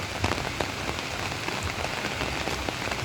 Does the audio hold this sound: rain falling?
yes